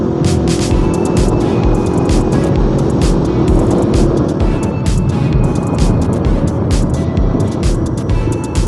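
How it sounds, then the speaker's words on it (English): A KTM Duke 250 motorcycle engine roars steadily and continuously during a short warm-up ride, close up, with a rumbling drone and occasional higher revving bursts throughout. "I'm taking my bike out for a short ride to warm up the engine"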